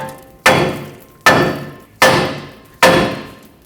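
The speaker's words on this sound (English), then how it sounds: "tap the knuckle with a hammer and break these 2 apart" A hammer strikes the steering knuckle of a 2003-2012 Chevrolet Colorado 4x4 four times in an even rhythm. Each blow is a loud, close metallic bang that rings briefly and fades before the next.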